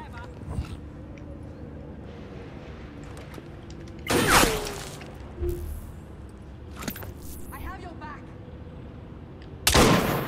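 Sharp, loud sniper gunshots in Assassin's Creed Syndicate, a few spaced cracks over quieter game ambience with occasional voice sounds.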